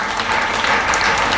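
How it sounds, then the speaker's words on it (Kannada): Audience applause at a rural children's dance academy annual event, a brief dense burst of many hands clapping, fairly loud and continuous. "ಅವನಿಗೆ ಜೋರಾಗಿ ಚಪ್ಪಾಳೆ ಕೊಡಿ"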